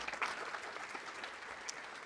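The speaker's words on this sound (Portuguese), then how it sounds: "Por favor, uma salva de palmas para elas!" Audience applause at an innovation ecosystem kickoff event in Joinville, a fairly quiet, steady patter of clapping from a crowd lasting about two seconds with no voices over it.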